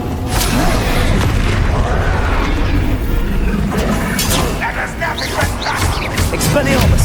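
A deep, booming Confringo spell blast in the wizarding action game Hogwarts Legacy, a loud, dense rumble that stays heavy and continuous with sharper bursts near the end.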